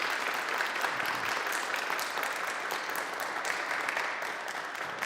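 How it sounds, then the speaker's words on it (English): An audience in a small gathering at a talk on spiritual direction applauds steadily for about five seconds, a moderate, even clapping that tapers slightly toward the end. "please join me in giving Kevin a warm round of applause"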